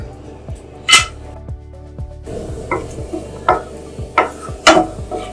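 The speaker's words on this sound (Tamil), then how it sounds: "இதை லைட்டா நம்ம ஃப்ரை பண்ணிக்கலாம்." Cashews frying in ghee in a hot pan, with a soft continuous sizzle under repeated scraping and clinking strokes of a spoon against the metal pan, close up with no talk.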